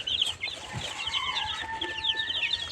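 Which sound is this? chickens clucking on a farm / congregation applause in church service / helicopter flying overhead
chickens clucking on a farm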